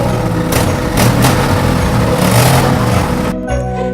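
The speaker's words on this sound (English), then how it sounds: "very soon they could hear his truck motoring towards them" A truck engine drones steadily close by, alone with no voices, swelling slightly as it draws nearer, then dropping away toward the end.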